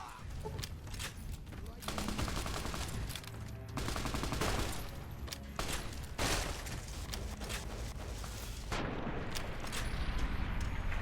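Anti-materiel rifle fire in Fallout: New Vegas: a loud, dense string of sharp gunshot cracks and booms echoing through a chaotic firefight, several blasts close together and others spaced out, over continuous battle noise.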